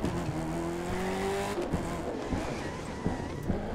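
An AI-driven car in The Crew 2, set in Seattle, skids past with a sustained engine drone and squealing tires, near and fairly loud, followed by scattered thumps and scrapes.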